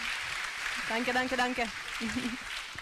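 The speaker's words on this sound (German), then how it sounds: "Du siehst, der Applaus ist großartig" Applause for astronaut Samantha Cristoforetti after her talk on 200 days in space fills the room as a steady, moderately loud hiss of clapping, while a voice speaks over it partway through.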